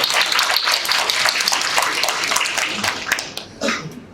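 A crowd at a Daegu high school debate contest final applauds in a dense, steady wash of clapping for about three seconds before it thins out and trails off.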